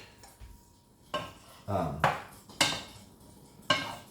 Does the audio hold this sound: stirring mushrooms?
yes